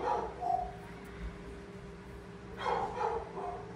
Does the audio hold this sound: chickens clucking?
no